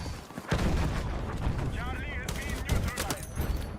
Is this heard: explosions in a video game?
yes